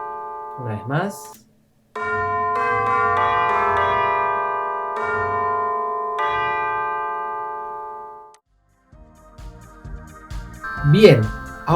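Tubular bells from the BBC Orchestra VST plugin play a few struck notes that ring out with long, shimmering decays, with a voice speaking briefly before and after.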